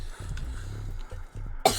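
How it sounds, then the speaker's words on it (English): A single short, sharp cough lands near the end, up close and loud, following a stretch of quiet low rumbling room and game sound without talk. "I'm just coughing for dramatic effect"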